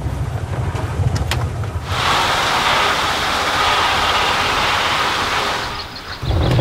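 Fiat 126p Maluch small car fording a stream, a loud broad rushing splash of water churning around the wheels rising after a low engine rumble, sustained for several seconds before easing off.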